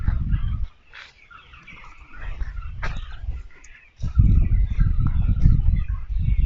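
Broiler chickens on a poultry farm in Côte d'Ivoire, a flock giving steady cheeping and chirping calls over a low rumble of barn noise, with a louder surge of birds near the end and no talk.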